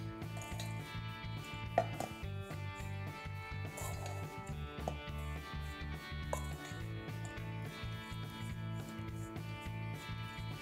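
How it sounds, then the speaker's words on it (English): Sweet potato and bacon latke mixture being stirred together in a bowl, with a steady run of soft scraping and wet mixing sounds, a few sharper clinks of utensil against the bowl, and no talking. "Now we're just going to mix all that together."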